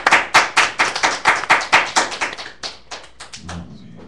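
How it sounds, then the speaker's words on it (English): Hand clapping for praise at a church outreach gathering: a rhythmic run of sharp, fairly close claps that gradually loosens and fades, trailing off into a few scattered claps and a brief low murmur at the end. "applaud and hand clap for praise."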